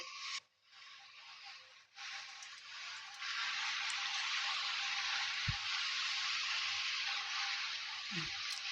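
Strands of gram flour sev fry in hot oil, a steady broad sizzle that swells after a brief dip and holds evenly, with a couple of faint knocks and scrapes underneath.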